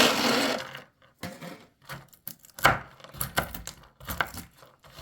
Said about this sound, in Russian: Далее нам нужно порубить примерно 100 грамм грецкого ореха